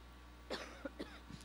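A few short, soft coughs in a quiet indoor setting, a sharp first one followed by smaller throat-clearing bursts.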